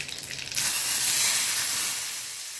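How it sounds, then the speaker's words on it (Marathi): Loud, steady sizzle of mustard seeds and cumin hitting hot oil, bursting in abruptly and then slowly fading, with no voices. "तेल गरम करून घेतलेलं आहे यामध्ये मोहरी जिरे घेता ही मस्त अशी फोडणी घालून घ्यायची"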